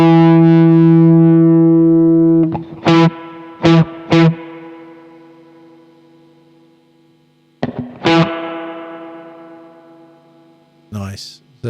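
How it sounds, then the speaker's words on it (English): Sustained electric guitar chords through a Strymon Fairfax setup ring out with a wet, splashy spring reverb tail, interrupted by a few sharp clanging hits that boom and decay. "A bit of spring reverb into the mix."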